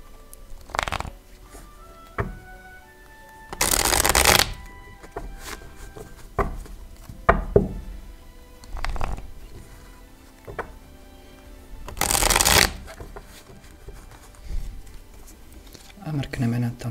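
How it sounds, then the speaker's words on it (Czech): Tarot cards are shuffled during a reading, with two brisk rustling riffle bursts standing out amid a woman's speech and small handling taps. "Zamíchám si karty."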